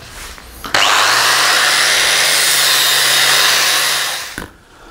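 Metal being cleaned before welding with a power tool fitted with a thin flex wheel, one loud continuous grinding whine that starts abruptly, holds steady for about three and a half seconds, then winds down, close with no speech.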